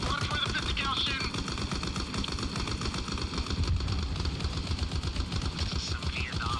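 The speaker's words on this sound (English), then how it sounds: "Watch for the 50 cal shooting." A .50 cal machine gun firing in Arma Reforger, heard in a wooded battle: a steady, rattling stream of rapid shots keeps a tight, even rhythm throughout, with faint voices breaking in now and then.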